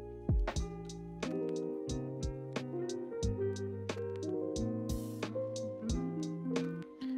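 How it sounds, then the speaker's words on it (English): A lo-fi guitar loop layered with a drum loop in FL Studio, mellow picked chords over a steady beat with regular kicks and snare hits, playing alone at moderate level without any talk. "Now, together it sounds something like this."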